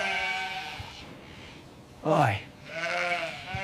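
A sheep bleats once, loud and close, during shearing at a wool farm, set against a low hum, and a person speaks briefly around it.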